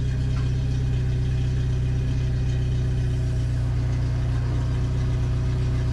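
A 1997 Jeep Wrangler TJ engine runs steadily while backing up in reverse, a loud, continuous low drone with a faint gear whine above it and no talking.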